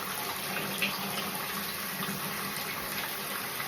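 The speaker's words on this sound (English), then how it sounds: "Add a little water." Water runs steadily from a tap while a Miniature Bull Terrier is bathed, with a constant close hiss and splash, uninterrupted throughout.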